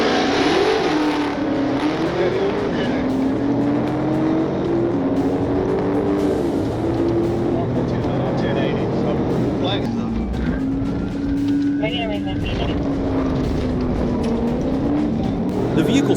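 A fleeing car accelerates hard during a police pursuit, its engine rising and falling in a steady loud roar that runs the whole stretch over road noise, with a voice talking over it.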